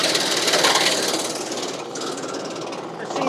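A WoodMaxx MX 8600 wood chipper mounted on a compact tractor chews through wood with a loud, rapid clattering roar, close by and continuous for a few seconds.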